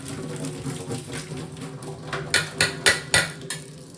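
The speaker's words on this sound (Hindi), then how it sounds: "मैं यहाँ पर वेजिटेबल सौते कर रही हूँ" Crackling and sizzling of vegetables sautéing in a pan with paneer, with a few sharp metallic clanks of a utensil against the cookware toward the end.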